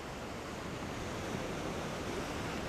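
Steady ocean surf and wind roar continuously at Ocean Beach beside the Sutro Baths ruins in San Francisco, a dense, even wash of noise with no voices.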